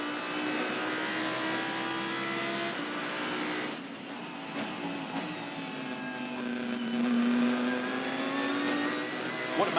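Chaz Mostert's V8 supercar heard from inside the cockpit while racing at Bathurst, its engine droning loud and steady through shifts, rising and falling in pitch with a brief dip as it lifts off and brakes.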